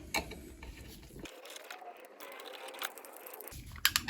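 Small ratchet driver clicking as it tightens three T15 screws on a Citroen C3 fuel filter, with rapid close-up pawl clicks in short bursts and a quieter stretch in the middle.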